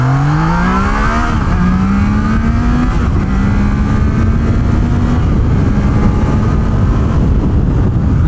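A Triumph Trident 660 triple-cylinder motorcycle engine revs hard and loud up close, its pitch climbing through the gears with brief dips between shifts, under heavy wind rush.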